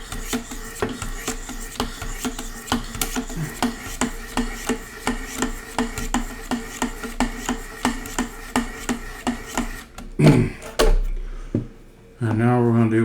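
A knife blade is sharpened on 800 grit stones of a Wicked Edge Pro system, with rhythmic, evenly spaced rasping strokes close up, then a pause as a voice speaks briefly near the end.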